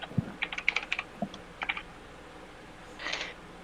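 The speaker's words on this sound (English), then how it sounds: "keyboard sounds." Bursts of computer keyboard typing, a quick run of clicking keystrokes followed by a second short cluster, close and fairly quiet, then a soft rustle, with no talking.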